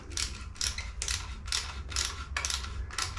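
A 7mm socket wrench ratchets while a diesel air heater is being installed, giving a steady series of about seven close, crisp clicking strokes at an even pace.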